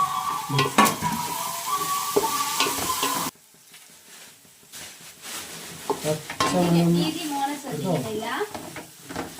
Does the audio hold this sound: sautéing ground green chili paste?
yes